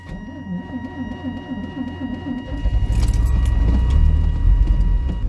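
A Chevy S-10 pickup is cold-started at minus 18: keys jangle and the starter cranks rhythmically, then the engine catches and settles into a loud, steady close-up running rumble.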